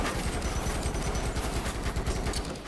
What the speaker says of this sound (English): I was just supposed to keep up fire. Oh, use the machine gun.